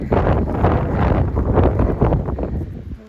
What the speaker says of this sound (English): Oh, it's windy and cold.